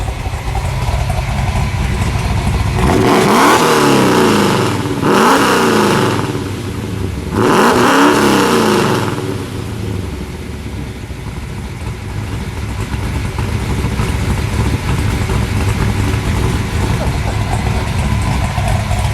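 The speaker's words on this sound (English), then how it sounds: "Go ahead, Rick, give it a rev." A 1960 Chevrolet Biscayne with a 496 cubic inch V8 idles with a deep lumpy rumble, then blips loudly three times in quick succession before settling back to a steady burbling idle, recorded up close.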